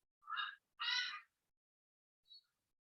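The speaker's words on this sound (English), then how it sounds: "sorry, I have these birds here, they are really loud sometimes." Loud birds call close by in two harsh, crow-like bursts, then a short faint call follows after a pause.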